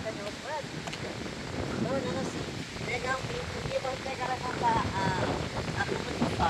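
Wind gusts ahead of a thunderstorm buffet the microphone with a steady rushing roar while people talk over it outdoors in a garden.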